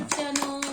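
A small child claps hands three times in a quick, light rhythm, close and soft, over a faint steady hum.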